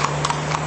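Horse hooves clip-clopping on a Thai farm, a four-year-old horse, with a few sharp hoof strikes spaced through a short moment over a steady low hum.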